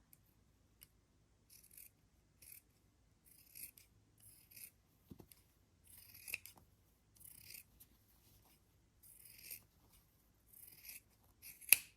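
Scissors snip through the fabric of a frill dress hem, a string of quiet, close, crisp cuts that come in short bursts with pauses between them and no talk.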